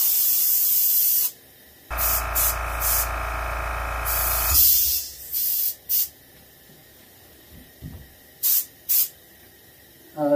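An airbrush sprays paint onto a skin-mounted bluegill during tinting, giving steady close hissing bursts: a short one, a long sustained spray of several seconds, then a string of brief puffs with quiet gaps between.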